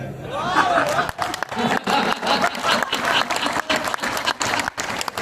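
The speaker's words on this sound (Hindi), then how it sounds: "तालियां अच्छे से बजाना" Sustained audience applause at a Hindi comedy poetry gathering, dense steady clapping from a large crowd filling the whole stretch, with scattered voices and shouts mixed in.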